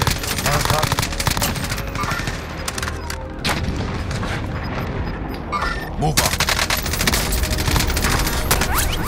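Rapid automatic gunfire in Call of Duty: Modern Warfare, a Verdansk resurgence match: loud, sustained bursts and overlapping shots over about nine seconds, with a short lull before the firing surges again, voices faintly under it.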